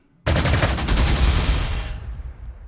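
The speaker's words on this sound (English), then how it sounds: "Let's strafe them again." Rapid machine-gun strafing from aircraft in the WWII strategy game Panzer Corps 2, a loud, dense burst of rattling fire lasting nearly two seconds before trailing off.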